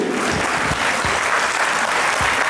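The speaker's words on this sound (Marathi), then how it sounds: "एकदा जोरदार टाळ्या होऊन जाऊ द्या पूर्ण टीमसाठी" Audience applause for the team at an annual event, a dense steady clapping that fills the hall without pause, loud and close, with a faint murmur of the crowd beneath.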